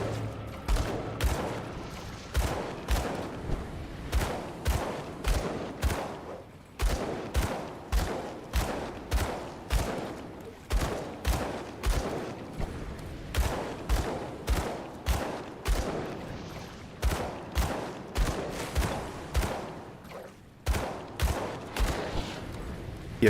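Rapid gunfire from a Gunslinger build in Grim Dawn during a boss fight with Villoth, shots fired in steady repeating bursts with short pauses, loud and close and without talk.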